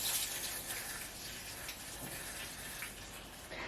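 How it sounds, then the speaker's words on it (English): Water poured into the soil of a large potted Philodendron mamei cutting after repotting, a steady splashing gush that runs without a break at close range. "I'm going to water this baby in."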